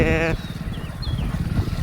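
A motorcycle engine putters along with a low rhythmic chug while riding through forest in Gir, after a short burst of another tonal sound at the start.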